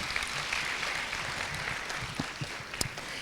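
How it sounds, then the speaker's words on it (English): Audience applause for both school debate teams, Moi Girls Nairobi and Alliance High School, at a senior debate competition: a steady wash of clapping across the whole stretch with a few sharper claps near the end. "a round of applause, please, for both teams"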